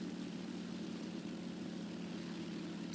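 A propeller plane engine from War Thunder holds a steady, moderate drone with a constant buzzing hum that neither rises nor fades, and no voices.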